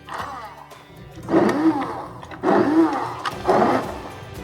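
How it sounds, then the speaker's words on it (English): An immersion blender purees thick leftover pizza soup, like a tomato bisque, in three separate whirring bursts that are loud and close, with quiet pauses between them. "use an immersion blender just like this and turn it into like a puree"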